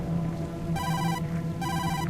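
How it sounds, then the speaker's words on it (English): Mobile phone ringing from inside a dumpster in the detective game Tokyo Dark, two bursts of electronic ringtone over a murky background hum, muffled and moderately quiet. "No doubt about it, that's Kazuki's phone"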